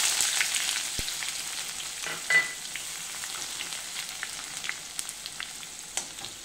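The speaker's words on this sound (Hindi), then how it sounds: "इसको भी अच्छे से फ्राई कर लूंगी मैं" Finely chopped onion frying in a pan, a steady close hiss of sizzling oil with a few faint clicks and a brief stirring scrape partway through.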